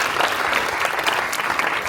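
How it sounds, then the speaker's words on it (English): A crowd at a New York City mayoral press conference applauds a student performance, a dense, steady wash of clapping that holds evenly loud throughout without pauses. "Can we have a round of applause for that?"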